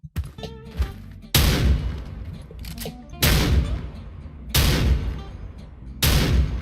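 Barret Siege sniper rifle in the game Special Force 2 fires four heavy, loud booming shots spaced about two seconds apart, each with a long decaying tail, following brief quieter clicks and handling noises.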